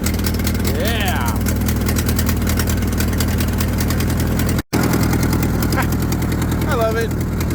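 An old car engine idles steadily after a choked start, a continuous low rumble running throughout with a brief dropout near the middle, while people talk over it.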